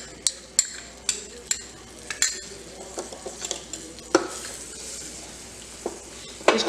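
A spoonful of maida roasting in about a teaspoon of Amul butter over low heat, stirred with a spoon that clinks and scrapes against the pan in repeated sharp taps over a faint sizzle.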